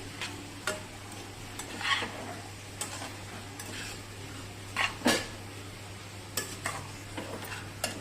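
Noodles tossed with salt and chilli powder in a pan, with soft scraping and clinking of a utensil against the metal in scattered strokes over a steady low hum, no talking.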